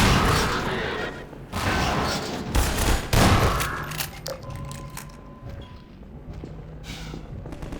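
Heavy cannon blasts from a Strider in the Half-Life 2 game, a dense run of loud booming shots and rumbling impacts that fades into quieter battle noise with scattered tonal effects.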